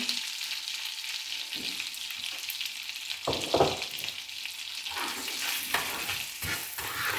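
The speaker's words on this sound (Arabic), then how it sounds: "وكنحاولوا نخليوهم يتكراميليزاو حتى تيولي اللون مايل الذهبي اولا البني." Butter and sugar sizzle and crackle steadily in a pan as they caramelize, while a utensil stirs and scrapes against it now and then, close up, with no talking.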